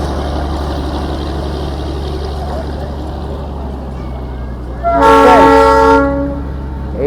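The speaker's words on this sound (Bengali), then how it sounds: "এই ট্রেনটা এরকম ঘুরে গিয়ে," A Darjeeling toy train rounds the loop line with a steady low rumble, then its horn sounds one loud, sustained blast of about a second before the rumble continues.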